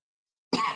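A single short cough, held back, follows a stretch of silence and is fairly close and clear.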